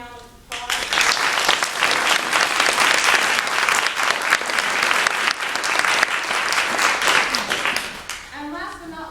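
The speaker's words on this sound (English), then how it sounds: "Let's give them a round of applause." A graduation audience applauds loudly with dense, steady clapping that lasts about eight seconds, then tapers off as a voice begins at the very end.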